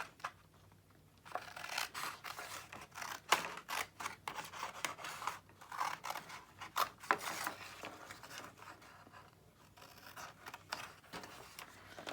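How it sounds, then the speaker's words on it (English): Scissors cutting paper along a score line for a notebook folder, a faint, close series of uneven snips and rustling scrapes that continue for several seconds in a quiet room. "And then I'm going to cut on this side."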